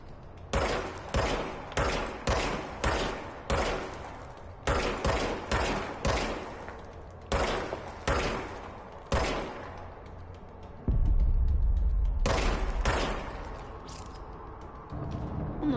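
Repeated bursts of automatic gunfire from a video game shooter played on a controller, short rapid volleys in a steady rhythm, loud and close, followed by a heavier low rumble.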